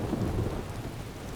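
A Skyrim thunderstorm: heavy rain hisses steadily while a deep roll of thunder rumbles underneath, loud and close, easing slightly toward the end.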